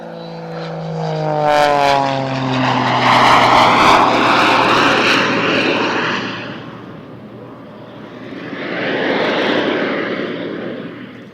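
Aerobatic aircraft powered by both a piston propeller engine and attached jet engines at Cosford Airshow, flying a partial flat inverted circle; a loud engine roar sweeps past with falling pitch, fades, then swells again more distantly.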